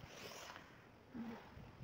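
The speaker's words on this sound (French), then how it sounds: "il y a du vent, c'est glacial" Cold wind rushes outdoors, producing a brief stretch of gusty, rumbling buffeting against the microphone with no one speaking.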